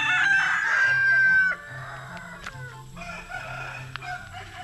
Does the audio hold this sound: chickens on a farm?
yes